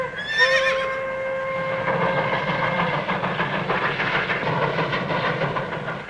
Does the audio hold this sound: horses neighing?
yes